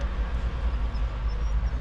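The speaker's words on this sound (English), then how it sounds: "you see this truck coming around the corner?" A truck rounds a corner at the Port of Brisbane, heard as a steady, loud low-frequency engine rumble with road and rolling noise that stays fairly constant and close throughout, with no talking.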